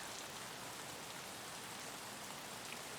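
Rain in the video game Escape from Tarkov, a dense, continuous hiss of falling water that fills the whole clip at a steady level, with no voices over it.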